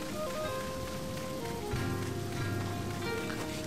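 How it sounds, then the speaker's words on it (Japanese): Steady rain falls in the farming video game Sakuna: Of Rice and Ruin, an even continuous hiss of rainfall with game music tones layered underneath and no voices. "また雨降ってやがんぞ。"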